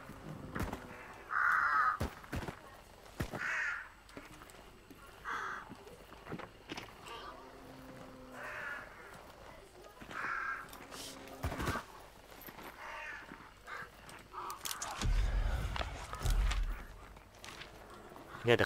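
Crows cawing in the video game Hunt: Showdown, a few short caws recurring through the scene amid footsteps, gunfire and other game sounds, with players talking over it.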